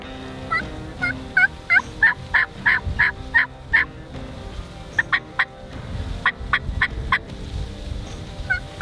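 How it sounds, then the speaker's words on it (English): Wild turkeys in a cypress roost gobble and call in a rapid series of sharp, loud bursts, one run after another with short pauses, heard outdoors at moderate distance with almost no talk. "Another turkey just came from the right, across the ditch."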